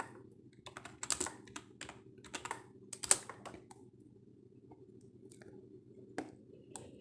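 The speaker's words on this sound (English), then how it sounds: "I'm gonna type Van Gogh in here." Typing on a computer keyboard, a run of light, irregular key clicks with a few sharper taps, fairly close over a low steady background hum, with no talking.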